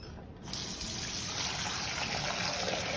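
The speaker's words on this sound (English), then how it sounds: "So we're going to fill this sink up with water and we're going to drop it in and break it." Hot tap water runs steadily into a sink, a continuous close rushing splash that starts abruptly after a brief quiet moment and holds at an even level.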